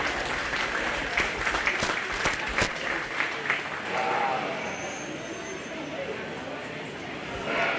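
A crowd applauds heavyweight sheep exhibitors at a county fair 4H/FFA sheep and lamb show, with steady clapping and a few sharp claps standing out early before the applause thins and fades into the room.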